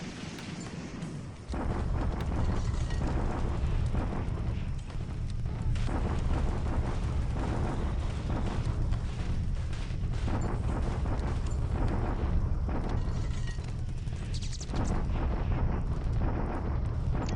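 Artillery bombardment at Clark in the wartime strategy game Alphabet Command, heard as a dense, continuous roll of heavy booms and rumbling explosions that starts after a short quieter lead-in and stays loud throughout.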